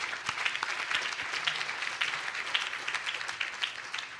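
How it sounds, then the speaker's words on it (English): Luncheon audience applauding families at a welcome event, sustained mid-level clapping from many hands, fairly even with slight swells, no voices standing out. "So a round of applause for all of our families as well"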